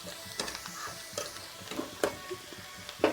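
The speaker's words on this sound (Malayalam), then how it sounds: "ഞാൻ കുറച്ച് വെളിച്ചെണ്ണയിൽ മല്ലിച്ചപ്പും പുതിനച്ചപ്പും ചെറിയ ഉള്ളിയും കൂടിയും ഒന്ന് വാട്ടിയെടുക്കുകയാണ്." Coriander leaves, mint leaves and shallots sauté in coconut oil, a quiet sizzle broken by sharp spoon scrapes and taps against the pan at irregular intervals, close up with no voices.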